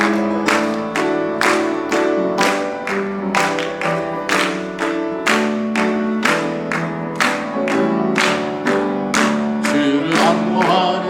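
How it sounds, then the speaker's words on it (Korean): A church congregation claps along in steady rhythm while singing a hymn together, loud regular claps roughly twice a second over full, sustained group singing. "박수하면서 힘차게 찬송하겠습니다."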